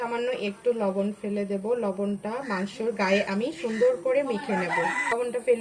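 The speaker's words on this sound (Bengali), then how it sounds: "বাগান থাকার কারণে পাখির আওয়াজ মুরগির আওয়াজ চারিদিক থেকে আমাদের" Chickens cluck and a rooster crows in the background while a person talks steadily close by.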